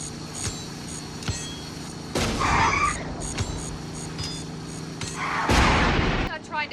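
Grenade blasts from a Herbie movie chase, heard as two bursts of booming explosion noise rising over a steady engine and background soundtrack bed, each lasting about a second.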